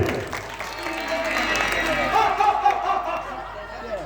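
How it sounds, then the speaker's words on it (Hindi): A crowd at a folk theatre performance claps and cheers, the applause building to a loud peak in the middle before tapering off. "जोरदार ताली।"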